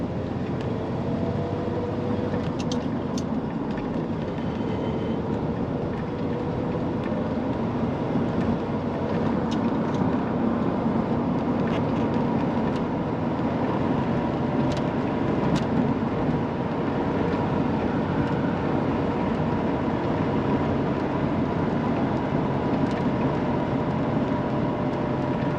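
A 1981 Chevrolet Corvette C3 with a four-speed manual cruises at steady speed, its engine a low continuous drone blended with road and wind roar, loud and unbroken throughout with no talking.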